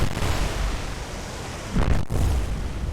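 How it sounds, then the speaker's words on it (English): A secondary explosion rips through an enemy warship in the naval combat game War on the Sea, a dense low rumble that swells briefly before cutting out, then resumes as a sustained roar without speech. "Another big secondary explosion."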